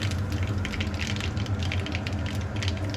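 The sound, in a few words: black mustard seeds spluttering in hot oil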